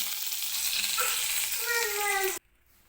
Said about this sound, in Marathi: कढीपत्ता सुद्धा मी तेलामध्ये टाकून घेतलेला आहे